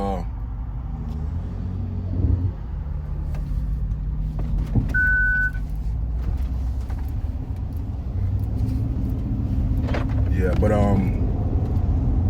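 A school bus drives past on a road, a loud steady engine rumble with tire roar rising and fading over about twelve seconds, with a brief electronic beep and some clanking mid-pass.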